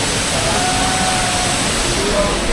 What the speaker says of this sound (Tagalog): ito na yung water park, waterfalls